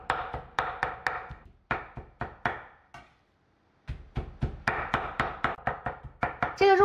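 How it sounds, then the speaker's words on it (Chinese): Fresh pork pieces are chopped into coarse mince on a board: quick bursts of sharp, evenly spaced chops, near and crisp, with a short pause in the middle before the rhythmic hacking resumes. "再将切好的肉块全部剁得碎一些"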